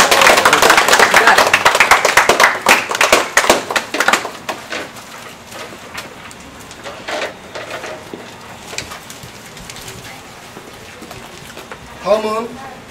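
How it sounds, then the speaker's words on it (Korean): Applause from the crowd at a ribbon-cutting during the opening ceremony of a Daegu branch, dense clapping at first that thins out and fades, with a brief voice near the end. "큰 박수"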